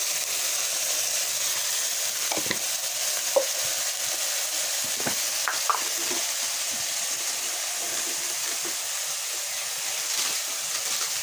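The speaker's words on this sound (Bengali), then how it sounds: "আর এটা ভালো করে কষাই করে নেব, লাল করে ভালো করে কষাই করে নেব এটা মশলাটা" Spice masala of turmeric, chilli and coriander powder frying in a pan, a steady close sizzle with intermittent scraping clicks of a spoon stirring through it.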